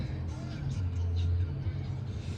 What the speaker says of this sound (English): Sorry, guys, we're gonna let this car go by.